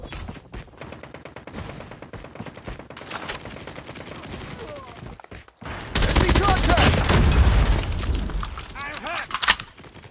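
Call of Duty Mobile gameplay gunfire crackles in rapid bursts, building to a loud, dense barrage of shots and booms in the second half, with game voice callouts heard over it.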